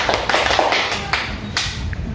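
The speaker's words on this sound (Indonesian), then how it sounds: "Tepuk 4" Claps from a group exercise, sharp and evenly spaced, several distinct hits over a faint room background with no voices.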